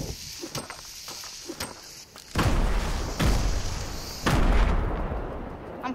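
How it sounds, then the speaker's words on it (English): A grenade is thrown in a zero build video game match. Light popping gives way to several loud, booming blasts that rumble close and heavy, one after another. "Maybe if I chuck a grenade."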